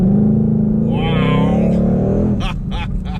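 A Dodge Challenger Hellcat Redeye muscle car taking off hard, its engine roaring loud and close with rising pitch through the gear, then easing off as a voice starts speaking near the end.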